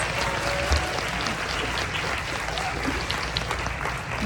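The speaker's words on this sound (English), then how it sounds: "Can we please give him a round of applause?" An audience at a panel discussion applauds steadily, a dense patter of many hands clapping at even loudness for several seconds.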